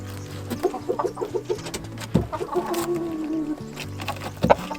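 Chickens cluck close by in quick, repeated bursts at a farm in central Portugal, with a sustained squawk in the middle and a few sharp noises, and no clear talking.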